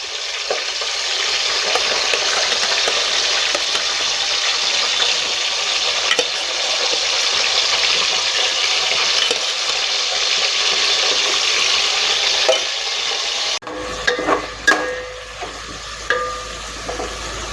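Biryani ingredients fry and get stirred in a pan over a high flame at a Kakinada biryani spot, a steady loud sizzle for most of the stretch, then a drop to quieter scraping clatter with sharp utensil knocks near the end.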